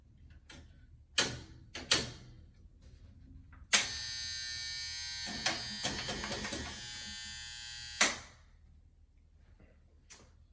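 A 1975 Chicago Coin Blue Max pinball machine powering up gives a steady loud electrical buzz for several seconds, framed by sharp clicks and clunks of relays and switches before and after, close by with no talking.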